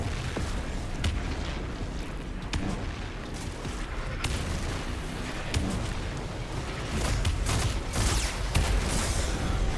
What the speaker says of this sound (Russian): Усиленная граната неплохо так дает.